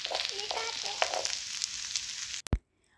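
Minced meat for samosa filling fries in a pan, giving a soft steady sizzle close by, which ends abruptly with a couple of sharp knocks before near silence.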